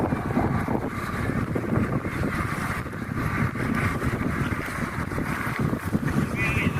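Cold wind buffets the microphone in steady, rumbling gusts outdoors, loud and continuous with faint background activity beneath.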